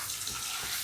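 Tap water runs steadily in a home kitchen while meat is washed for biryani, a continuous broadband hiss with no speech over it.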